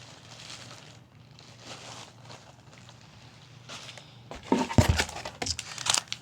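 A plastic bag of miscellaneous ribbon trims is handled nearby, with soft rustling early on, then louder crinkling and crumpling bursts toward the end, with no talking.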